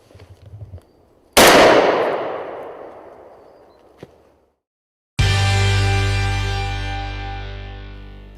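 Shotgun fired at a driven grouse shoot on Farndale Moor: one loud, sharp blast that rolls away in a long fading echo across open ground, followed a few seconds later by a loud sustained ringing tone.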